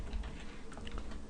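Faint, quick keystrokes on a computer keyboard as an expression is typed, a few soft clicks in a short uneven burst with no one talking.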